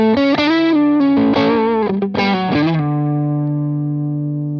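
An overdriven electric guitar plays through an Orange amp with a Tone King Imperial preamp, a few fuzzy chords and bent notes that end in one long sustained ringing chord, loud and close.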